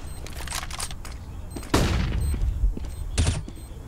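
A rapid string of gunfire from Counter-Strike on the Overpass map during a pro esports final, with a loud close shot cracking out midway and another burst after, over faint background noise.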